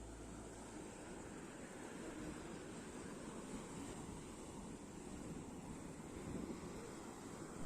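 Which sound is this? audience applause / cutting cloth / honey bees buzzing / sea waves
sea waves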